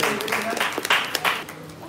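Audience applause at a live intermittent fasting lecture by a speaker: a short burst of dense clapping that rises and falls over about two seconds, with voices mixed in.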